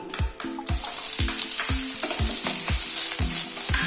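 Onion frying in oil in a pan for kadamba chutney with chana dal and urad dal, a steady loud sizzle broken by regular stirring knocks of a spoon against the pan.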